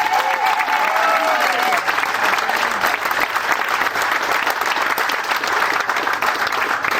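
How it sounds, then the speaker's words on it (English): At a 20th anniversary event honoring the Pawnee Scouts and the Pawnee Seed Preservation Society, a crowd claps loudly and continuously for three honorees, a full, even wash of many hands lasting the whole seven seconds. "So please give these 3 folks a round of applause."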